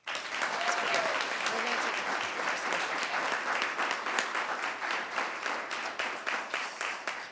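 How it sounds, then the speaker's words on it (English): An audience at a school district board of trustees meeting breaks into a steady round of applause, dense clapping sustained for the whole stretch at an even level with no voices standing out. "you deserve a big round of applause"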